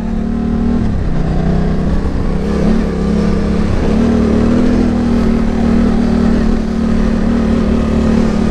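A Yamaha Tenere 700 motorcycle pushes along a dirt trail, its engine droning loud and close with a steady, slightly wavering tone over constant wind and road rumble.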